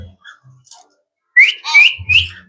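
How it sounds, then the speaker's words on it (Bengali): Several sharp, rising whistles from a myna bird, loud and close, with faint chirps and soft noises between them. "ময়না"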